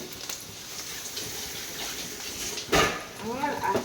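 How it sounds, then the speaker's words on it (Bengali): Tap water runs steadily into a sink during handwashing at home, a soft continuous wash with a louder splash near the end and someone talking over it. "হাতটা আমি ধুয়ে নিই।"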